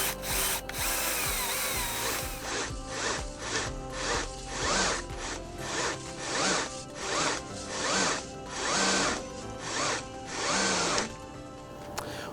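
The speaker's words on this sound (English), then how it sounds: "we'll attach the cordless drill to those wands and make sure we have it in a clockwise direction" A cordless drill spins brush wands through a clothes dryer vent duct, the motor whirring in rhythmic surges as the brushes scrape and rasp inside the ductwork, close and steady with no talking.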